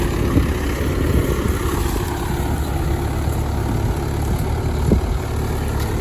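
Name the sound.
tractor engine running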